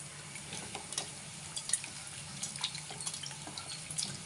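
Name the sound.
pouring a little water into tamarind paste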